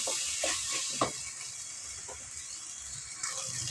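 A ground paste of fennel, poppy seeds, tomato and onion sautés in a pan with a soft, steady sizzling hiss. Occasional light stirring knocks sound against the pan, all fairly quiet and close.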